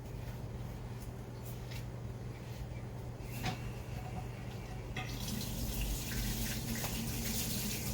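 Water pouring from a python hose into a goldfish quarantine aquarium tank, a steady hiss and splash with a low hum beneath, growing fuller and brighter about halfway through.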